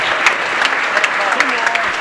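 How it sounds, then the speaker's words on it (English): Crowd applause at a bowling World Cup final, a steady dense clapping with sharp bursts standing out, loud and continuous throughout as the bowler celebrates a strike. "Orr asks for the crowd to cheer as he does a victory lap here with a strike"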